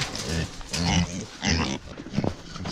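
Pig grunts from a breeding sow penned with boars on a wintry farm, a run of several close, loud oinks and snorts.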